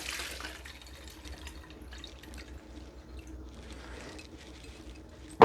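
Lime juice poured from a vessel into a measuring container, giving a faint, steady trickle with drips that runs for several seconds and ends in a short louder knock.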